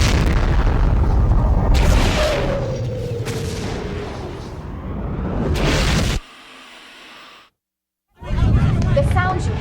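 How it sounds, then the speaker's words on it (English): Heavy weapons fire from Narn and Centauri vessels battling outside Babylon 5 comes as loud booming blasts and rumbling bursts, then a short quiet gap before another blast. "The sounds you hear are heavy weapons on the Narn and Centauri vessels doing battle just outside Babylon 5."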